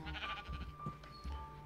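Sheep bleating in the TerraFirmaCraft video game, a few wavering bleats close by, moderately loud over faint game ambience.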